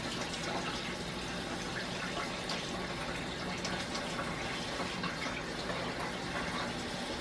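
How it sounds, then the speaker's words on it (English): Water poured into a 2-quart slow cooker, a steady, continuous pouring and splashing wash that holds at an even level for several seconds, close by and alone. "And I always start by putting water, a little bit of water in this."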